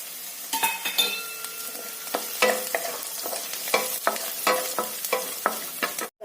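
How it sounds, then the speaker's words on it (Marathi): Cumin seeds sautéing in oil for vermicelli upma, stirred in the pan: a light sizzle broken by a steady series of scraping strokes and sharp metallic clinks of the spoon against the vessel, close and clear. "त्यामध्ये तेल आहे त्यामध्ये थोडंसं जिरे जिरे पण परतून घ्यायचं"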